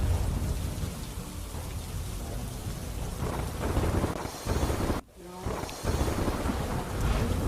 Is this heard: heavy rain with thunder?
yes